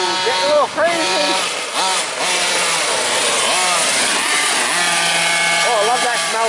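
A two-stroke engine vehicle runs over debris in a parking lot, a buzzing high-revving engine with rising and falling pitch sweeps, close and loud, and a voice is heard over it.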